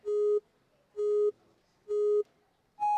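An electronic start signal for a kids' obstacle course: three identical steady beeps at an even pace, followed by a fourth higher-pitched tone, clean and moderately loud against near silence.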